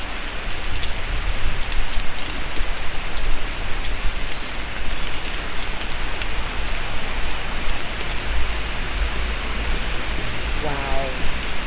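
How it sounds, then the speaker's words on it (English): Dead spruce needles from drought-killed trees rain down in a German forest, making a dense, steady patter like heavy rainfall that stays loud and even throughout. "This is the sound of spruce needles."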